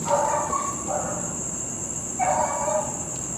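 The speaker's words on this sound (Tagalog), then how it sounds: "naririnig yung tahol ng aso" A dog barks three times somewhat far away in an abandoned school, the muffled barks rising over a steady electronic hiss.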